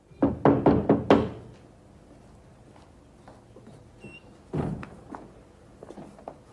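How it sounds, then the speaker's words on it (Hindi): Knuckles rap on a house door in a quick burst of four or five loud, close knocks, then after a pause a second, softer pair of knocks follows, with faint room noise between. "किसी संस्था ने मुझे चीफ गेस्ट बनाने के लिए मेरा द्वार खटखटाया"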